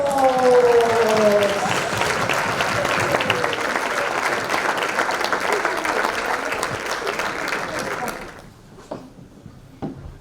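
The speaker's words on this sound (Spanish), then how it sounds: "¡Oh, aplausos!" Audience applause at a Christmas concert of ensembles and band, loud sustained clapping filling the hall, with a few voices and a tonal sound at the start, then thinning to scattered claps.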